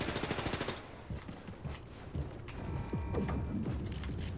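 Rapid suppressed gunfire from a silenced weapon in the shooter Wolfenstein II: The New Colossus, a quick run of muffled repeated shots at the start followed by scattered thuds, clanks and mechanical game noises.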